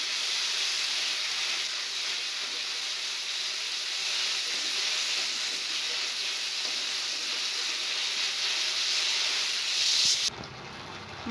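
A spice paste of cumin, coriander, ginger and dried red chilli is sautéed with water and oil in a pan, giving a steady, even hiss and sizzle that holds for about ten seconds, then cuts off sharply.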